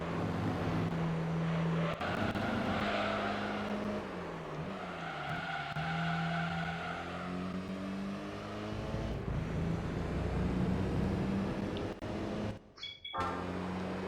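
LMP race car in Gran Turismo 3, its engine whining loudly as pitch climbs and drops through gear changes and corners, with tire squeal and a brief cut near the end; no talk over it.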